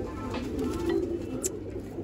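A red Chinese pigeon coos in low, throaty rolling notes close by, with a few soft repeats and faint background noise, no talk.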